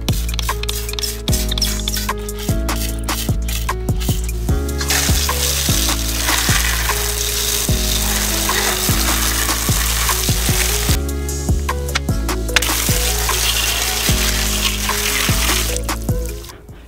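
Water sprays over radiator fans taken out of an offroad 240sx during cleaning, a loud, continuous hissing splash that surges and eases, with brief interruptions.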